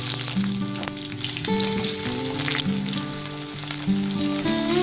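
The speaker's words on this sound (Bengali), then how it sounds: "পেঁয়াজটাকে দিয়ে একটু ভেজে নেব।" Chopped onion and whole cumin seeds sizzle steadily in hot oil, a continuous close frying crackle with no voices, steady in loudness throughout.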